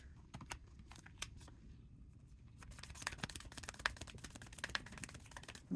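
Tarot cards are shuffled by hand in a quiet room, with soft papery rustling broken by rapid, uneven flicks and snaps that grow busier toward the end. No voice is heard.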